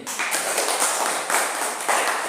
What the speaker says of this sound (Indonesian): kita beri tepuk tangan untuk si Geri ini